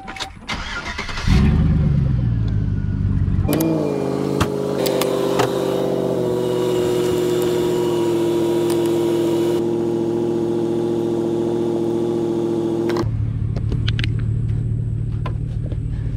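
A Mazda Miata engine cranks on truck jumper cables after being left abandoned. A loud starter whir begins and gives way to a strained, steady droning grind for about ten seconds, then stops. It is close and alone.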